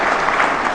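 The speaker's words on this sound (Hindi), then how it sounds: "ये डुप्लीकेट ताली है," An audience claps at a motivational Holi talk, with a short burst of dense, steady applause and no voices over it.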